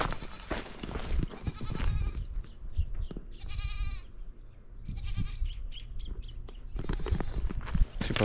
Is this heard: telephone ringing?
no